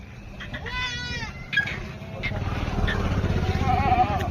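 Kathiawadi goats bleat on a goat farm in Chalisgaon, with several wavering, nasal cries close by over a low rumbling background and someone talking.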